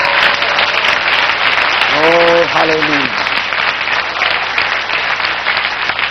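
Congregation clapping hands throughout a church service, a dense sustained wash of applause with a shout of praise rising over it partway through.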